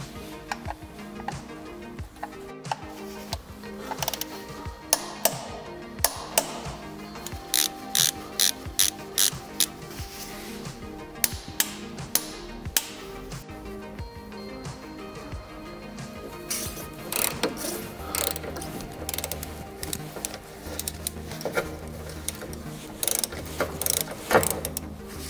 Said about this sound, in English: we now put back in the drain plug screws. We tighten those with 43 Newton meters.